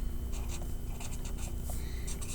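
Pencil scratching across paper in short, irregular strokes, close and fairly quiet over a steady low background hum.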